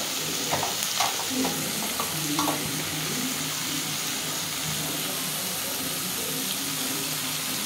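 Cabbage with potato and soybean sizzles steadily in a pan while a utensil scrapes and stirs a few times early on, with the continuous frying hiss carrying through to the end.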